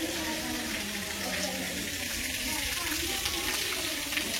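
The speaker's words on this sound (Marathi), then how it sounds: "खूप सुंदर झरा आहेत आणि हे पाणी इकडे चाललेलं आहे" Spring water streams away from one of three springs at the Shri Siddheshwar temple in Vadgaon, a steady, even rushing wash with no voices over it.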